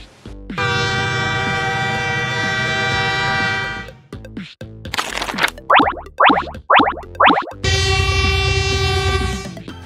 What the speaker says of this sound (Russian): Правильно, это пожарный поезд.